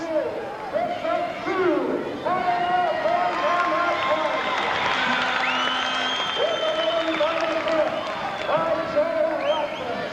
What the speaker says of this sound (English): Here comes the applause.